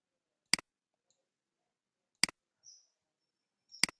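Three crisp, close computer mouse clicks spaced evenly apart, each a quick press-and-release double tick, in near silence with a faint brief squeak between them.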